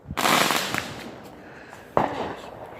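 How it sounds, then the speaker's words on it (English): Fourth of July fireworks bursting loudly and close by, a sharp crackling explosion followed by a rumbling tail, then a second sharp bang near the end. "there's so many fireworks going on"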